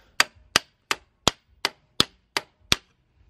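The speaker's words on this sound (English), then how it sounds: "I'm gonna go ahead and just give this a few little love taps, and it will come right off" Eight light, evenly spaced metallic hammer taps ring out close and clear against an engine timing sprocket during a Mk5 GTI engine swap, each a sharp clink with a short decay over a quiet background.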